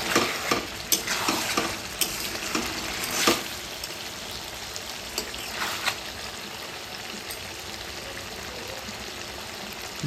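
Chicken is stirred in a pan with no oil, a continuous sizzle broken by clustered scraping strokes that are louder early and then ease off.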